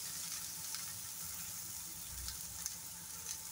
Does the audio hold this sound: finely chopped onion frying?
yes